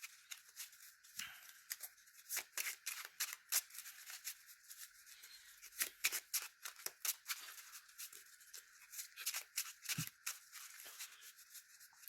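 Close, quiet crisp riffling and snapping of a Yu-Gi-Oh card deck being shuffled, in repeated short bursts with brief pauses, no voices.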